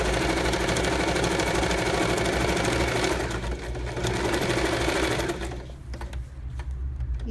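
A sewing machine runs close by, stitching in a fast, steady mechanical whir, then slows and shifts into a shorter, choppier burst of backstitching before stopping, with no one speaking.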